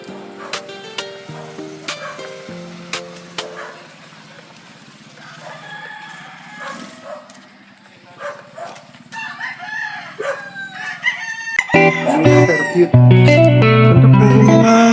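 Roosters at a game farm in Makabud, Rizal crow repeatedly, several birds calling near and far with clucking between, growing louder and denser toward the end.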